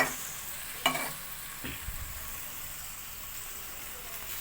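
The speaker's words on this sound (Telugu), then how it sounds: "కొంచెం వేడెక్కినాక పన్నీర్ ముక్కలు వేసేద్దాం" Paneer pieces hit hot oil in a pan, giving a soft, steady sizzle after a couple of sharp drops and clatters, faint and close with no talk over it.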